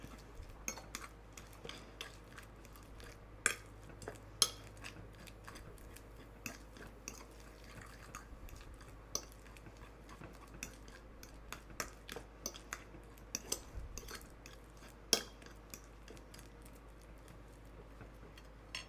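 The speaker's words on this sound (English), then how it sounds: "And then we just mash it up." A fork or utensil mashing banana with mayonnaise in a dish, producing irregular soft clinks and scrapes against the bowl, close and fairly quiet, with no talking.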